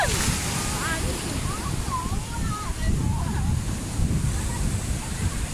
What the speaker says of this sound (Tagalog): yung malaki yung alon.